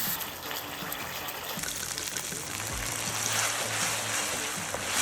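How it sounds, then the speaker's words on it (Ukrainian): Broth and wine are poured into rice for a seafood risotto, making a steady rushing pour into the pan that continues without pause, fairly close and moderately loud. "Починаємо додавати наші рідкі інгредієнти. Спочатку бульйон, потім вино, потім знову бульйон."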